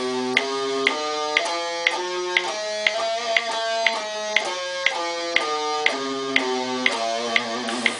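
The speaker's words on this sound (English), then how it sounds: "So I'll just start with the harmonic minor scale." A harmonic minor scale played note by note on a string instrument, clear plucked tones rising and falling in an even, steady rhythm, close and alone with no talking.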